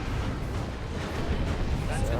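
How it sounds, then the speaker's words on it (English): Artillery barrage pounding down in Dawn of War 2, a dense continuous low rumble of shelling with layered booms and crackle, steady and loud throughout. "looks like we have a bunch of another artillery barrage coming down"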